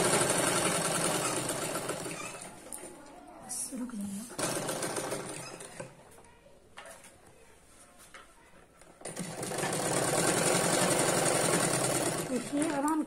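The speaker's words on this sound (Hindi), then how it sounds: "इसको हम इस पर रख के आधे इंच का सिलाई और चला देंगे।" Sewing machine stitching the seam of a six-panel petticoat, a fast rattling whir that runs steadily, slows to a softer patch midway, then speeds up loudly again, with someone talking over part of it.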